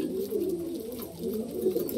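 A pigeon pecking at paddy grain gives soft, low coos, two rolling phrases close by and fairly quiet, with no other sounds over them.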